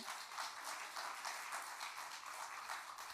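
Church congregation applauding during a Sunday morning service, a steady, faint wash of many hands clapping continuously without distinct individual claps.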